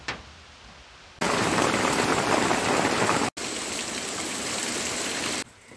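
Loud, steady downpour of rain rushing on a surface, starting abruptly after a quiet moment, cutting out briefly, then continuing before fading down.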